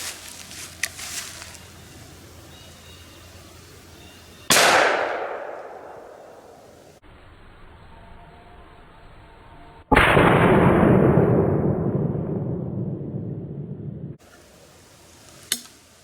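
A 20 gauge shotgun fires two loud, sharp blasts at a gun store range, each followed by a long, ringing, decaying tail. A few faint clicks and a brief knock sit between the shots.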